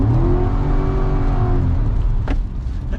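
A 2020 Chevrolet C8 Corvette driving on a slick road, with a loud, close engine drone that rises and steadies. A brief whoosh cuts through near the end.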